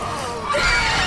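A short, loud, strained scream from a Mortal Kombat 11 fighter during a tournament match, a single sustained cry that fills the whole brief moment.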